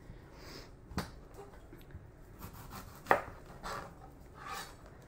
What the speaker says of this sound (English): I already made a flat surface for us to cut on with the onion.